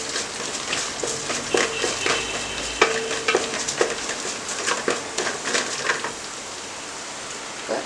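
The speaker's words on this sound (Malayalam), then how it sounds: "ഇത് നന്നായിട്ടൊന്ന് വഴറ്റി കൊടുക്കാം. ഒരുപാട് നേരമൊന്നും മൂപ്പിക്കേണ്ട, ഒന്ന് വഴറ്റാം." Green chillies sauté in a pan for sooji upma, a close, steady crackling sizzle with scattered spatters and scrapes of stirring that quiets toward the end.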